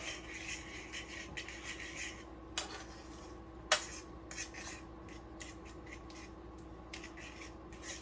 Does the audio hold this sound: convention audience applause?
no